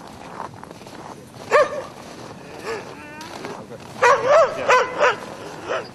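A hunting dog of mixed breed with Moscow dog ancestry barks and yips in the Siberian taiga, several sharp calls in a burst near the end over steady outdoor background noise.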